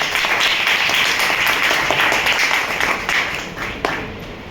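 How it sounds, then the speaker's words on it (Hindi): An audience at a company wellness event bursts into loud applause, a dense, steady clapping that carries for several seconds before thinning slightly at the end. "तो उनके लिए एक बार जोरदार तालियां होता है"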